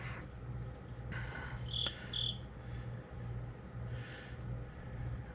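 A cricket chirps from a floor drain in a basement studio, a steady faint high trill that continues throughout, with a brief brighter pair of chirps near the middle and no talking.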